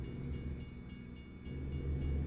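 A train passes a level crossing in the American Truck Simulator game, a low rumbling roll with rhythmic wheel clacks, fairly quiet and steady, with no talking.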